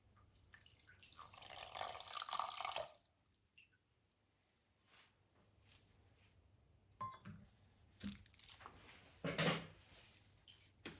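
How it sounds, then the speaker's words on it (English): Half a cup of water is poured into a pot of cranberry sauce ingredients, with a close, soft splashing trickle at the start followed by scattered drips and small splashes. "Next we'll add 1/2 cup of water."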